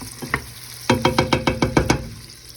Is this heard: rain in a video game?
no